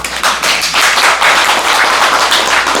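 Lecture audience on a temple pilgrimage clapping: loud, close, continuous applause of many hands with sharp individual claps, holding steady for under three seconds.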